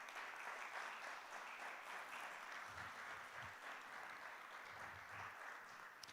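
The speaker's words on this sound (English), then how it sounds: "So if you could give them a round of applause" Audience applause at an international education and diversity forum, a steady wash of clapping from a crowd that holds evenly throughout, moderately distant with a few low thumps underneath.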